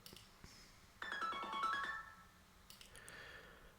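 An incoming call sets off a phone ringtone, a brief electronic melody of stepped notes that plays for about a second amid a quiet room, with faint clicks before and after.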